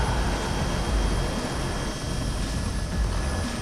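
Helicopter flying over a Dakar rally desert stage, a steady broad engine and rotor drone at moderate distance, continuous without clear variation.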